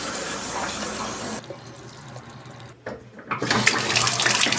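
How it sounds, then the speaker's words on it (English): Household faucets turned on, water rushing and splashing into a sink, loud at first, then quieter and briefly cut off before gushing strongly again, close by with no speech. "Let's go turn on some faucets."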